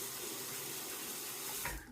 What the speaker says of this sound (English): I'm going to wet the razor here.